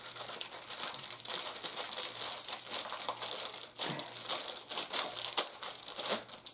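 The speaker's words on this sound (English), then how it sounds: "To save on time, I'm just going to cut the bag open." A plastic bag is cut open by hand, giving close, irregular crinkling and rustling in quick bursts, with sharper snips and crackles scattered through. A faint low hum sits underneath.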